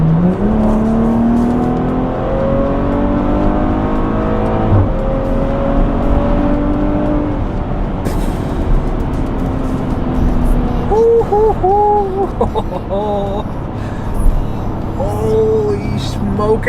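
A 2019 Maserati Levante S engine revs loudly and climbs steadily through the gears, a rising whine over a deep roar, with a few brief voices underneath.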